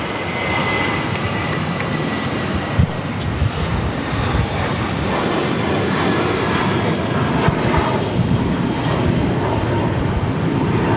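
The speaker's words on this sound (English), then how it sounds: "989 taking off to Washington Reagan National on A319." An American Airlines Airbus A319 takes off from Boston Logan bound for Washington Reagan National, a steady broadband engine roar holding throughout at moderate distance.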